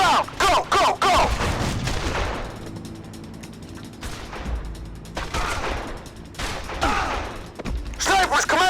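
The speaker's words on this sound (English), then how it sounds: "Snipers, commence fire!" Sniper and rifle fire from the mob shooter Made Man rattles in clattering bursts with mechanical clicks and ratchet-like action noises, fading in a quieter stretch before picking up again, with shouting voices in between.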